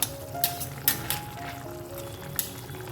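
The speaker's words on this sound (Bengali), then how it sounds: "পাঁচ থেকে সাত মিনিট আমি এটাকে এবার একটু ফুটিয়ে নেবো" Bitter gourd and potato curry simmering in a pan, with soft bubbling and a few brief clinks or splashes; moderately close, no talking.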